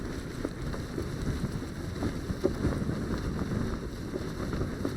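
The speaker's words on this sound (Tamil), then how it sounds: "ஏன் இப்படி சவுண்ட் வருது பேராஷூட்?" Parachute gliding through the air in a video game, a steady rushing, wind-like whoosh with low rumble that stays continuous and fairly faint, with no talking over it.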